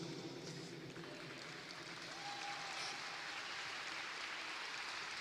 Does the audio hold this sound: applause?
yes